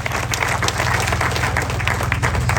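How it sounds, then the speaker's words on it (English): A crowd at a public gathering about the Karuma remedial works breaks into steady applause, dense and sustained clapping filling the short stretch with no talk over it. "Can we give them a round of applause?"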